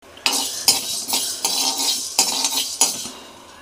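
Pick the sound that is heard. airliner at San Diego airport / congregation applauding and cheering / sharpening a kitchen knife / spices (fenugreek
spices (fenugreek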